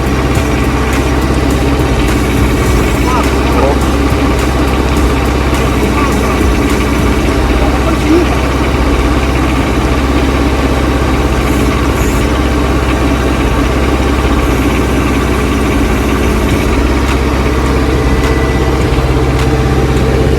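A Kubota mini excavator's diesel engine runs with a steady, loud, low rumble that holds constant and close throughout, with faint voices in the background.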